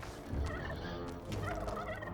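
A turkey gobbles in the video game Dungeons 3, a rapid, rattling burst that repeats twice against a busy game background.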